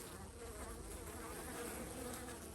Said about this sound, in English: look at the population of bees in here